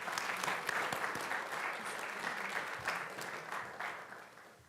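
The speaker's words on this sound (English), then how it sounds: "So let's give him a round of applause." Applause from an audience at a school board meeting honoring a fifth-grade math facts champion, steady dense clapping that fades slightly toward the end, moderately distant and alone.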